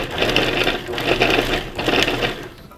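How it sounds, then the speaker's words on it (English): Food processor pulsing mushrooms, porcini, garlic and thyme in three loud close bursts of whirring motor, each roughly a second long with short dips between. "we're gonna toss all that into the food processor here"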